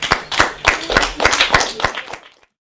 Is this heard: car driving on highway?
no